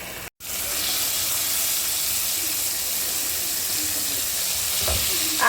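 Butter dropped into melted sugar sizzles and spits as caramel is stirred, a steady close hiss with a brief gap near the start and soft stirring scrapes toward the end.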